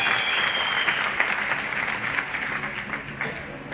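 Sustained audience applause in a hall during a live training session, steady dense clapping from a crowd with no voices over it.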